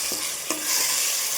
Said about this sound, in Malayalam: നമ്മൾ കുറച്ച് തൈര് ഇതിൽ ഒഴിച്ചു.